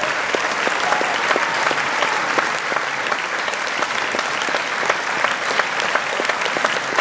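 Concert audience applauding orchestra conductor Bernard Abrami on his final night, a dense, steady wash of many hands clapping at close range for the full stretch without pause.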